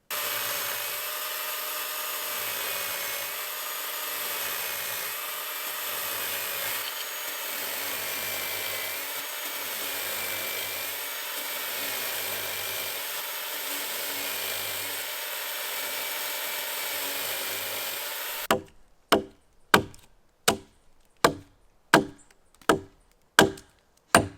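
A steady engine drone runs for most of the time, then about eight sharp, evenly spaced wooden chops ring out near the end as log notches are trimmed while building a log cabin.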